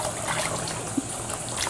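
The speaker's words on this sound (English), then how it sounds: "So we need to rinse it first with water until it runs clear" Water trickling and splashing steadily over sticky rice being rinsed for Lao steamed rice, a soft continuous wet patter close by with no talk.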